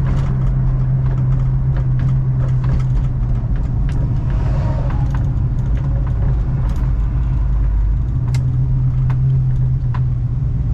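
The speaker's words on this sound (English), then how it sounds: "we'll go ahead and flip a U-turn right here and head back to the showroom" A 1939 Chevrolet Master Deluxe drives and swings through a U-turn, its engine a loud, steady low hum from inside the car with a slight rise in revs partway through.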